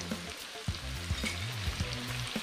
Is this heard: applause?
no